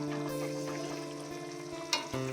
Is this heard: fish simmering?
yes